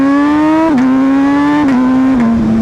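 An MV Agusta Brutale RR motorcycle engine screams at high revs, loud and close, and its pitch drops sharply with each of three quick gear shifts.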